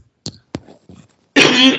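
A few short, sharp coughs in an indoor interview, followed by a louder, longer burst of a cough or throat clearing, close to the microphone.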